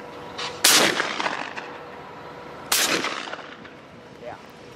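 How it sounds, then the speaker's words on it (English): Two loud, sharp shotgun blasts a couple of seconds apart, each with a rolling echo, during a dove hunt at a quarry in Pennsylvania; faint outdoor ambience fills the gaps. "Nice shot. Two shots."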